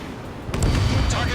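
A missile striking its target in the Ace Combat 7 video game, heard as a brief dull boom and rumble that rises about halfway through, low and muffled beneath a steady background roar.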